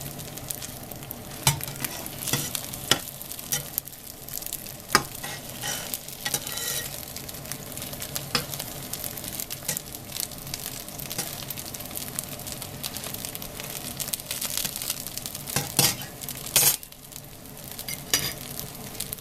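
A pancake for mushroom and ground-meat crêpes fries in a pan with a little oil, giving a long, even sizzle with scattered pops and light clicks of a utensil, up close and free of speech.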